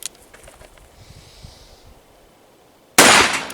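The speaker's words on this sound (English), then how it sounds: "let's see if we can make it through 38 rounds of 300 grain 44 Magnum." A .44 Magnum revolver firing a 300 grain round, one loud sharp blast at the end after quiet handling noises and breathing.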